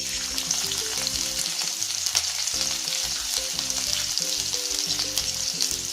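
Spring onion whites frying in a pan for vegetable fried rice, a steady close sizzle with crackling and occasional stirring scrapes throughout, no talking.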